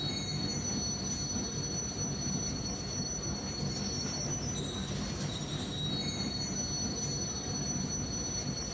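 A train braking toward a station, its wheels squealing in sustained high-pitched tones over a steady low rumble that fills the whole stretch, with no talking.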